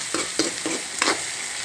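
Chopped onions frying in hot oil for upma, with a steady sizzle broken by a few quick scraping strokes of a spoon stirring the pan, close and fairly loud.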